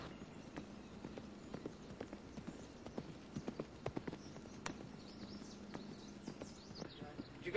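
A horse's hooves clop in a steady trotting rhythm on a hard surface during a soundness check, moderately close, with faint voices and background ambience.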